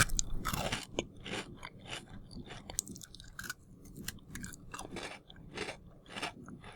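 Crunchy homemade biscuits being chewed up close, with repeated crisp crunches and munching bites in an uneven rhythm, loud and intimate with no talking.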